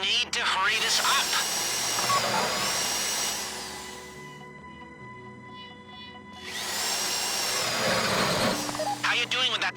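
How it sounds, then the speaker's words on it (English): In a GTA V heist, the Fleeca Job, a safe-cracking drill bores into a safety deposit box with a loud, steady whine. It drops away midway, then resumes, with voices talking over it. "How you doing with that drill?"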